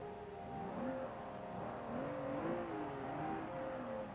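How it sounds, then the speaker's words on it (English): A Rolls-Royce Wraith engine in Forza Motorsport 5 starts and runs with a smooth, quiet, steady hum and faint tonal whine, rising slightly in pitch midway, with no voices. "Now we turn on the engine. Listen to this."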